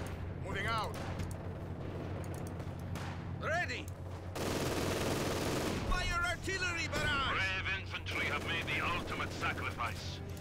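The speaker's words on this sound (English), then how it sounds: "The remaining German howitzer is targeting our headquarters." A German howitzer shelling a headquarters in the Company of Heroes 2 video game, with a heavy, sustained roar of explosive fire bursting mid-clip amid steady battle noise and radio-style voices talking throughout.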